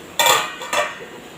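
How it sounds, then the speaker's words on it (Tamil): A lid lifted off a cooking pot of simmering Andhra-style tomato thokku gives two short, close metallic clanks about half a second apart, with no talking. "இப்போ மூடி எடுத்துகிட்டு பார்த்துடலாங்க"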